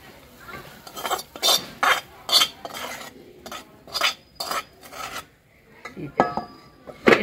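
Fried vegetables being stirred into rice for vegetarian fried rice: a metal spoon repeatedly scrapes and clinks against the pot in rhythmic bursts, close and clear, with brief pauses between strokes.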